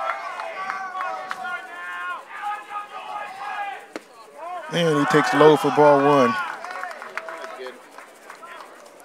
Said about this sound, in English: Vikings crowd here as they're trying to rally their team to score at least one run